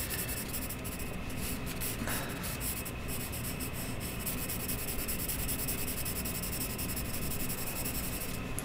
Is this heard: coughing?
no